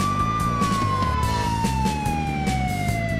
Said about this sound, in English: I see a police car behind me.